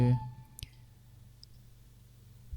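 A single sharp computer mouse click lands just after the start, standing alone against a quiet background hum.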